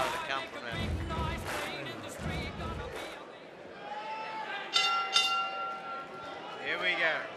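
A boxing ring bell rings during a professional bout, a couple of bright clangs cutting through crowd noise and commentary partway through, with voices talking before and after.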